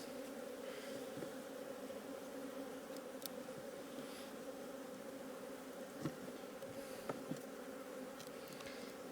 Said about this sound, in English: Bees are looking really good.